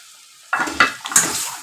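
Water is splashed into a hot pan of egg dopiaza and bursts into a loud close sizzle, with a few sharp surges as it hits the oil and then settles into steady frying.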